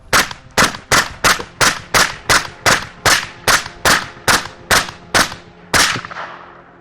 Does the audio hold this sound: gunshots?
yes